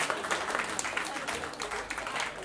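Audience applause at a harp and jazz concert as an ensemble takes the stage, steady dense clapping from a crowd, even and moderately loud throughout.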